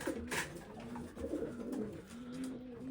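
Racing pigeons coo in soft, low repeated calls, close by at a loft, with a continuous murmuring rhythm throughout.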